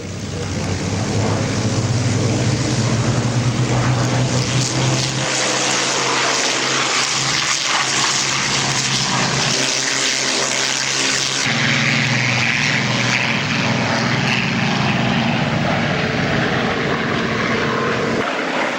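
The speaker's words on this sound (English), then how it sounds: "Take off in two groups. At this point, Daddy, you'll have to excuse me because I like to stand up and listen to this. Spitfires, rolling," Several Spitfire propeller aircraft engines roar loudly together at an air show, the drone swelling and shifting in pitch as the planes roll and take off, continuous throughout.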